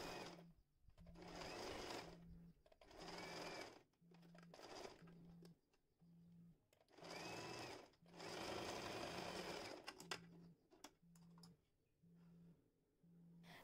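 A sewing machine stitches the edges of two layered fabric pieces for a homemade surgical face mask, running in several bursts of steady rapid whirring separated by brief pauses, close and clear with no talk.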